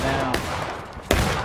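Two sharp musket volleys crack about three-quarters of a second apart in the Civil War shooter War of Rights, loud and close over a steady din of distant gunfire.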